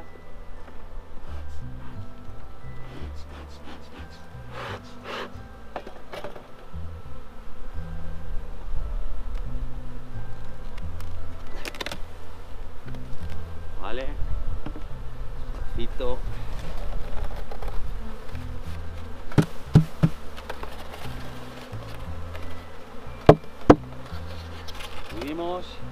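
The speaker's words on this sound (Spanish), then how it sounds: "Luego la sacudimos bien de abejas." Honey bees buzz steadily around an open hive while a frame is shaken free of bees, a continuous drone under someone speaking Spanish, with occasional knocks and thumps.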